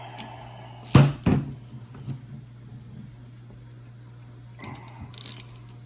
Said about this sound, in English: Now, when I torque this, I torque it to 50 inch-pounds